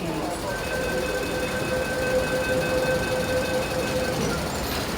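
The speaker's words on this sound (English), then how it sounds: "And we have the last train coming up" A metro train rolls into the platform at Kowloon Bay station with a steady loud rumble and a sustained high whine, nearby and continuous, with no talking.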